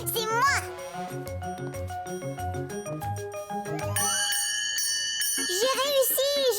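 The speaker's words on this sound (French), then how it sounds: "C'est moi qui vais faire sonner la cloche." A child rings a bell in a Caillou cartoon episode; bright, sustained chimes ring out over music and a voice.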